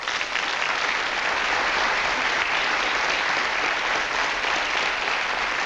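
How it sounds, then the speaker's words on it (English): A studio audience applauds the Cashman family on a 1970s Irish television talk show, a dense, loud, steady wash of many hands clapping that continues unbroken throughout. "So let's give a round of applause then to the Cashmans."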